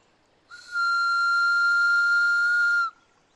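A tin whistle with a fipple plug slotted into its top sounds one steady, loud, high sustained note of about two and a half seconds, played alone outdoors in a woodland setting, with a slight breathy hiss.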